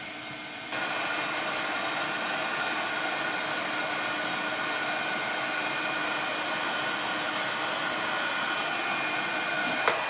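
A heat tool melting embossing powder on a papercraft project blows a steady, loud, fan-driven whoosh that switches on after a brief quiet moment and runs evenly without pause, close to the microphone.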